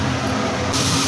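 Bay leaf, black cumin and fennel seeds hitting hot oil in a wok give a steady, close hissing sizzle for about a second, brightening partway through, with no voices.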